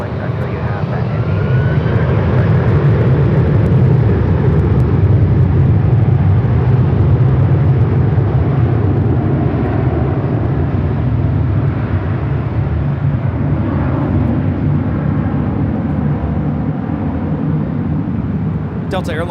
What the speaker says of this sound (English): Delta Airlines 446 taking off to Atlanta on the A330-300